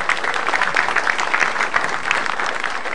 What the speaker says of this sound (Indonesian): tepuk tangan dong buat saya